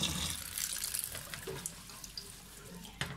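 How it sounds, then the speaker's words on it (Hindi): Cold tap water runs steadily over boiled macaroni in a strainer, a continuous near splashing hiss with a few sharper splashes, no talking. "जब आप इसको फिल्टर कर लें तो इसके ऊपर ठंडा पानी डाल दें अच्छी तरह"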